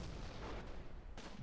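Artillery fire in the World War II strategy game Close Combat: Gateway to Caen, a continuous rumbling barrage of low booms that stays steady and fairly loud for the whole moment, with a sharper burst near the end and no talk.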